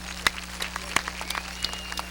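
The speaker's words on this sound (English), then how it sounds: "Let's give them a good round of applause" Scattered, sparse clapping from an audience at a Seminole powwow in 1993, a few distinct sharp claps standing out over a steady low electrical hum, fairly faint and thin.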